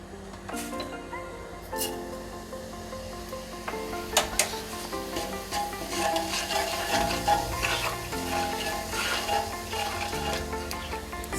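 Asafoetida and cumin seeds crackle and sizzle steadily in hot oil for a kachori filling, with a few sharp pops and clinks of a utensil in the pan, close and continuous, no talk.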